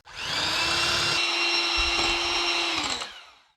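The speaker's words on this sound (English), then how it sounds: "I'm just going to use my mixer and beat this together" An electric mixer beating herbed cream cheese frosting whirs steadily at a high pitch for about three seconds, starting abruptly and winding down at the end, close and loud.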